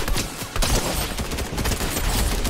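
Rapid, loud bursts of gunfire from a gun in a GTA roleplay game, shots packed close together in a dense rattling fusillade throughout.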